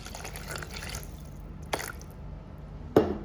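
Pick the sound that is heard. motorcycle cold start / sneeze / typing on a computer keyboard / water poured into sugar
water poured into sugar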